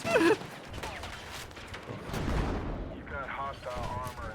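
Gunfire and explosive blasts from a Battlefield 6 RedSec match rumble through a dense, chaotic battlefield mix, with a sharp burst near the start and heavy booms around the middle, all under excited talk.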